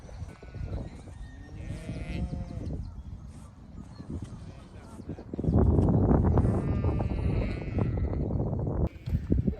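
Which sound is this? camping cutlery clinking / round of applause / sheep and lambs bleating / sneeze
sheep and lambs bleating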